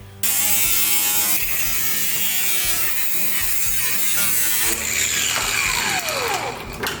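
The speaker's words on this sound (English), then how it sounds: "I'm gonna unbolt the fender and cut out the rusted portion." A power tool cuts through the rusted fender of a car being built into a donk, a loud, steady buzzing whine running continuously, with the pitch sweeping and shifting near the end as the blade bites into the metal.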